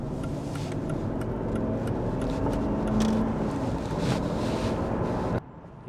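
Steady low engine drone from a Mercedes-Benz W210 E430 V8 on a fully stock, unmodified exhaust, cruising at about 60 mph with wind and road roar mixed in, holding level before dropping off abruptly near the end.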